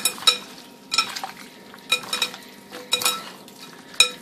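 Beef pepper steak being mixed by hand in a pot, with squelching and light clinking in irregular bursts, close and moderately loud, no talking.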